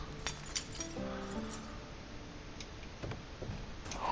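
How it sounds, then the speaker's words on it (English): Window glass is knocked out and cleared in the zombie survival game Project Zomboid, giving a series of light clinks and glassy ticks scattered over a quiet background. "Have to remove the glass."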